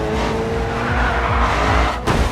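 A race car in GRID 2 roars close and loud as it brakes hard, its engine note dropping while tires skid and squeal, ending in a sharp thump near the end of the brief burst.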